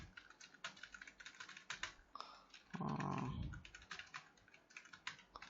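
Rapid keystrokes as JavaScript code is typed on a computer keyboard, a close, steady run of light clicks with a brief denser burst midway.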